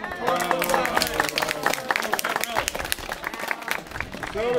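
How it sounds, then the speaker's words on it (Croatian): A gathered crowd at a village gathering claps in a steady patter of applause, with people talking loudly over it throughout. "Ajdemo, aplauz jedan"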